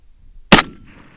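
A single sharp SKS rifle shot with iron sights fired at a rock about 350 meters away, a loud broadband crack followed by a short fading tail, otherwise quiet outdoors.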